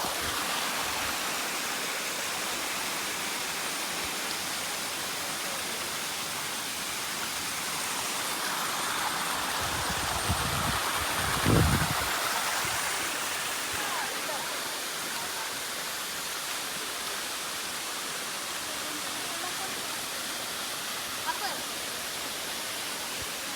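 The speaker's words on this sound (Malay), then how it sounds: "kita berhenti dekat air terjun Semangkuk" Semangkuk waterfall on the road to Fraser's Hill, Malaysia, pours as a steady broadband rush of falling water, with a brief louder thump near the middle and faint voices nearby.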